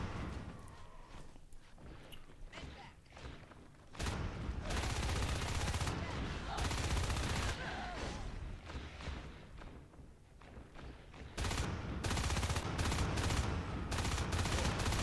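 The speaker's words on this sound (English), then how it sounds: "Troy conserving his weapon well, using that burst fire to make sure he's only landing bullets" Burst gunfire from a marine's weapon in the video game Natural Selection, short loud volleys cutting in and out over dense game noise and a steady low rumble.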